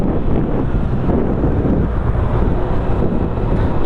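Strong wind buffets an outdoor microphone near a rail line in the Philippines, a loud, continuous low rumble and roar that never lets up.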